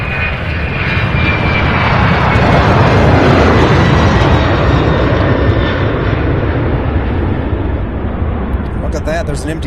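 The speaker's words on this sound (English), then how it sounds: "There's an MD-11 right there in the background as well." An MD-11 jet at Louisville International Airport, a loud steady jet roar filling the recording with a thin high whine, gradually easing toward the end.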